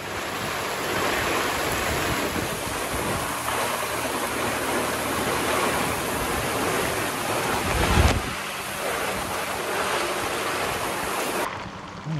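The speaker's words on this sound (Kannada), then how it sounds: "ನಾನು ಕಾರ್ ಹತ್ರ ಹೋಗ್ತಾ ಇದ್ದ ಹಾಗೆ ಮಳೆ ತುಂಬ ಜೋರಾಯಿತು." Heavy rain falling in the hills around Charmadi and Mudigere in Chikmagalur, a dense, steady hiss that carries on unbroken for about twelve seconds with one dull thump partway through and no voices.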